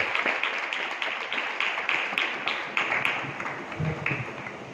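Applause from a church congregation, a crowd of hands clapping at moderate volume with audible individual sharp claps and a slight fade toward the end, no talk over it.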